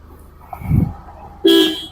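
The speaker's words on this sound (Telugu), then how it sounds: "హారన్ కూడా పర్ఫెక్ట్ ఉంది" A 2017 Maruti Baleno Zeta diesel car gives one short, loud honk of its horn near the end, after a quieter stretch of idle background.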